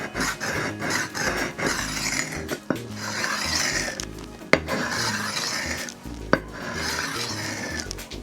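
A chef knife's bolster is ground back and forth on a diamond sharpening stone, with repeated raspy scraping strokes and a few sharp metallic clicks, close up and without talk.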